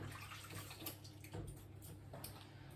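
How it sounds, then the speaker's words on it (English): Running water from a kitchen tap while hands are washed clean of butter, a faint, steady hiss and splash with small irregular bursts of splattering, no voices. "I'm just going to wash my hands,"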